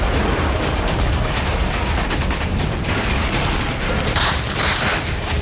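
A dense roar of booming blasts and crackling from a drone strike on a secret service headquarters in the Russia-Ukraine war, loud and sustained like a string of explosions with rumbling debris, no voices.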